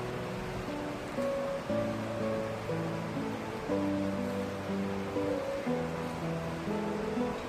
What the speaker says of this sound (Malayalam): അതിരപ്പള്ളിയിൽ പോണ വഴിക്ക് വെള്ളച്ചാട്ടത്തിൽ നിന്ന് വരുന്ന വെള്ളം ഒഴുകി വരുന്ന ഒരു സ്ഥലമാണിത്.